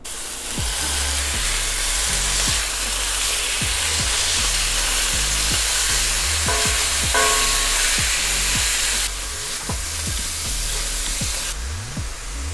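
Grass-fed ground beef, one pound, sizzles and spits loudly in a hot pan with a steady frying hiss and repeated scrapes and stirs of a utensil.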